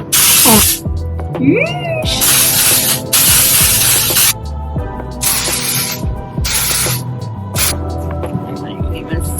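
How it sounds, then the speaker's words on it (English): Several long hissing bursts from an aerosol can of Sexy Hair texture spray held close, each lasting about a second, separated by short pauses and faint handling sounds. "The Sexy Hair Texture Spray"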